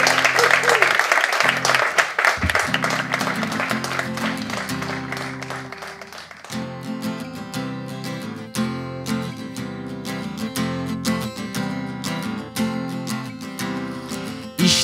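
Audience applause welcoming a comedian onto the stage at a stand-up show, a few seconds of loud clapping that quickly gives way to loud rhythmic stage music which dominates the rest.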